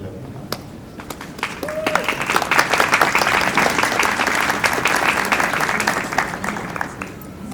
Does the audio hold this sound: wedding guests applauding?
yes